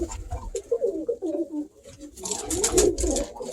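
Pigeons coo in a breeding loft, soft rolling calls repeating through the clip at moderate distance, with a denser burst of cooing and bird activity toward the end.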